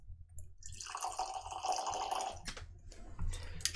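Lagavulin 19 whisky poured into a glass, a bright trickling liquid stream that rises then tails off in drips, close and fairly quiet.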